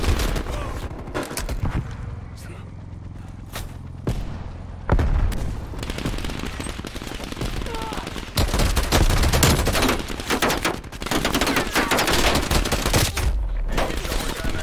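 Bursts of SMG fire rattle through a Call of Duty Black Ops Cold War multiplayer match, rapid automatic volleys separated by brief pauses, with explosions and other battle noise around them.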